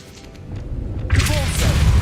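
In Hogwarts Legacy, the Revelio spell is cast with a deep, booming whoosh that swells suddenly and lingers, loud and full, after a quieter stretch in which a voice can be heard.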